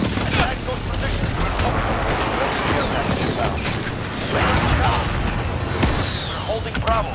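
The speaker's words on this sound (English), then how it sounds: "Allied precision airstrike" Heavy explosions from an allied precision airstrike rumble in a military shooter game, dense booms and crashing blasts rolling continuously under radio callouts and battle chatter.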